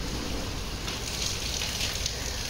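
Heavy rain pours down steadily outdoors, a dense, loud hiss of drops on surfaces that continues unbroken with no talk.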